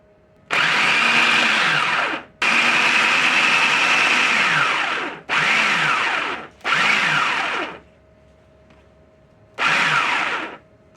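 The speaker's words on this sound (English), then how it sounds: "You want to just pulse it so you can crush up the tomatoes and the cilantro" A food processor pulsing canned tomatoes and cilantro for salsa: five loud motor bursts of one to three seconds each, separated by short pauses, close up with no talk.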